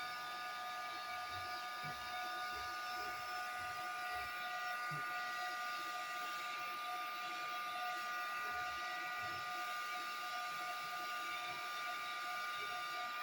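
Heat gun blowing on a rhinestone-wrapped skinny tumbler, a steady continuous hiss and whine throughout with faint low knocks and handling underneath, no talking.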